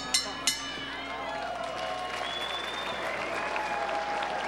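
A crowd at a boxing match between two unbeaten featherweights applauds in a steady wash of clapping, with a commentator's voice running over it and two sharp knocks near the start.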